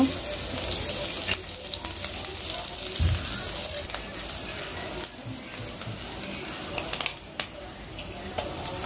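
Egg frying in oil in a pan, a steady close crackling sizzle that runs throughout with small pops and occasional louder spatters, plus faint clatter and quiet background sounds.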